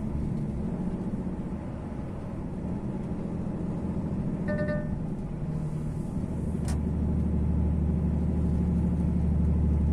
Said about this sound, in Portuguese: diminui o caminhão só no freio motor